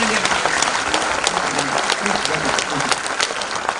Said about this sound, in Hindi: जोर से तालियां बजाइए, लगातार खड़े होकर के तालियां बजाइए